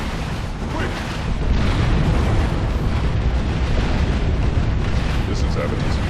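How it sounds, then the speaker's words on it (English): Artillery barrage in the Warhammer 40,000 game Dawn of War 2 Chaos Rising: heavy, rumbling explosions pile up into a loud continuous roar with repeated booming bursts, over faint voices. "Barrage incoming!"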